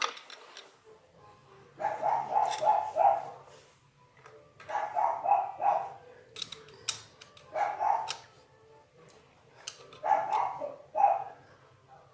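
A dog barks in repeated bursts of several sharp barks, separated by short pauses, at moderate distance in a garage-like space where a Harley primary oil leak is being worked on.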